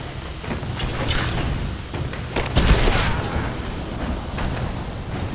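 A grenade goes off in Rise of the Tomb Raider amid gunfire: several sharp cracks, then a heavy low-end blast around the middle, with rumbling debris and more scattered shots after it.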